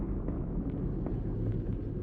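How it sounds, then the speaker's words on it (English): Deep, sustained rumbling blast from an in-game explosion in Halo 1 on the Pillar of Autumn level, steady and fairly loud across two seconds with no talk. "That's the second explosion."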